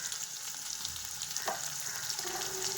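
Sliced onions fry in a pan with a steady, close hiss and crackle that continues without pause, and no voices are heard.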